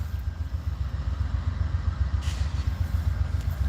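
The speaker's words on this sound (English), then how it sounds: "the second engine is running at a high idle and has been since the moment they stopped" A second Amtrak locomotive engine, stopped after hitting a vehicle, runs at high idle with a steady pulsing diesel throb that is loud and continuous.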